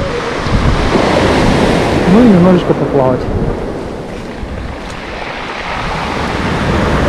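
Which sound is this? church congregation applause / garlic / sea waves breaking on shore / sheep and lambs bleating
sea waves breaking on shore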